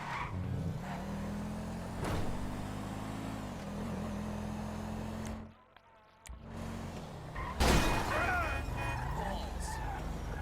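A car in Grand Theft Auto 5 drones along with engine and road noise under talking, drops out briefly, then a sharp impact hits, followed by scraping and rattling.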